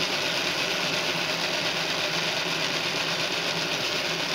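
A small steam engine runs steadily as its boiler pressure falls away, giving a continuous, even mechanical chuffing and whirring hum close by with no pauses.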